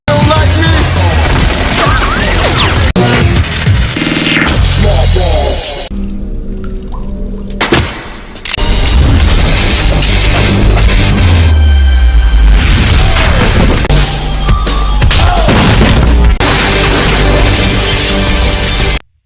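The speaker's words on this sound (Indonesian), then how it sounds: "Casa dan Nicholas berhasil menemukan Mimin dan terjadilah adu tembak" A gunfight with a loud, dense exchange of gunfire: rapid overlapping shots and crashing bursts fill most of the stretch, broken by a brief quieter gap before the shooting resumes at full intensity.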